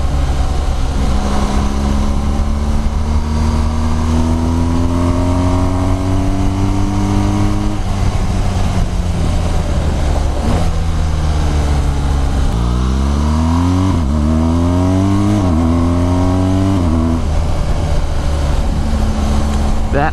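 A 2018 BMW R1200GS Rallye motorcycle accelerating hard on a country road, loud close engine climbing through rising gear pulls with brief dips at shifts, over constant wind roar.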